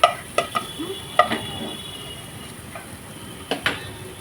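Ingredients being sautéed in a pan for peas rice, a soft background sizzle punctuated by several sharp metallic taps and scrapes of a spoon against the pan, near and without speech.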